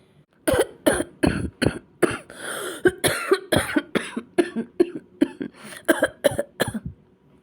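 A person with a sore, irritated throat coughs repeatedly in short dry bursts, about a dozen close, loud coughs in an uneven rhythm with brief pauses between.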